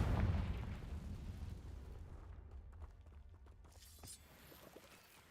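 Confringo spell blast from the Hogwarts Legacy video game: a sharp, loud burst at the start that decays into a long, fading rumble with scattered faint crackles trailing off.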